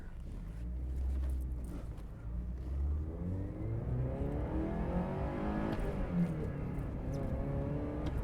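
Porsche 924S being driven, its engine note rising and falling through gears with audible revving as the car accelerates, heard from inside the cabin at moderate loudness.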